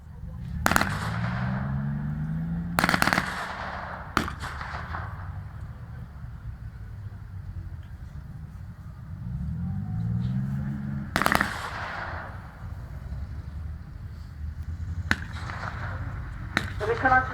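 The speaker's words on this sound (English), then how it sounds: "the Germans open fire on this small enemy force" Gunfire at a WW2 battle re-enactment as German troops open up on a small enemy force: several sharp, loud shots and short bursts ring out at irregular intervals, with a faint low rumble and background noise in between.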